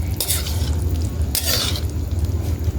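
Thick tilapia sarciado sauce simmering at a boil in a pan is stirred with a utensil, soft bubbling under two brief scraping sweeps against the pot.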